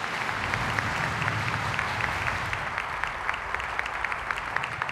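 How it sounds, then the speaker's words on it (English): An audience applauds steadily at a concert celebration, a dense wash of clapping hands continuing throughout without letting up. "give them a big round of applause"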